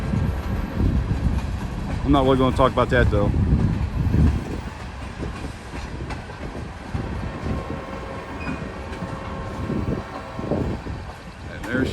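A train rumbles past on a rural line near the Sardinia wye, a steady, close, low roar filling the scene while someone talks over it.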